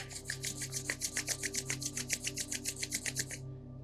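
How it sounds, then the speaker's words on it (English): Palms rubbed briskly together to build warmth, a quick rhythmic swishing of about twenty close, even strokes that stops abruptly near the end, heard alone without talk. "Slowly bring the hands together and start rubbing the palms to create heat in the palms."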